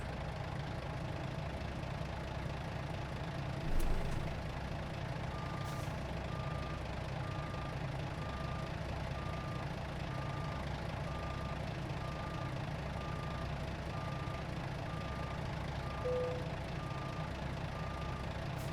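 A truck in American Truck Simulator backs up with a trailer, its reversing alarm beeping at an even, regular pace over a steady idling engine rumble for the whole stretch.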